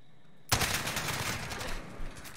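AK-47 fire in a first-person shooter: an abrupt loud burst after silence, then a rapid stream of overlapping gunshots with cracks and echoes, ending in a couple of louder final shots.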